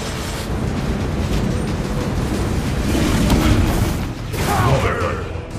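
Booming blasts and crashing bursts as a turret is destroyed in the mobile battle game, loud and dense with a swell near the end, layered with in-game effects.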